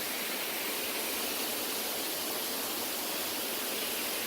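A small creek at Bard Springs Campground in Ouachita National Forest flows steadily, a dense, loud, continuous rush of water heard close up with no voices.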